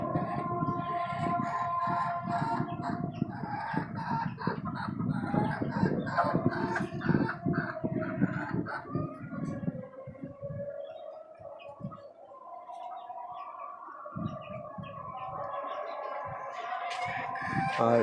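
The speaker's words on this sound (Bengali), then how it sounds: "এই মুরগিগুলো আমার নতুন আনা হয়েছে আজকে আনলাম কিছুক্ষণ আগে টঙ্গীর হাট থেকে" Newly bought tiger-breed chickens on a rooftop farm cluck and call repeatedly near at hand, with bursts of clucking and a few louder squawks continuing over roughly eighteen seconds.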